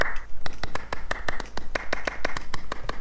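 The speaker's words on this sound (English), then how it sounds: "Yeah, okay, clap." Two hands clap in a steady run of sharp, close claps, about a dozen evenly spaced over three seconds, with a brief faint tonal sound at the start.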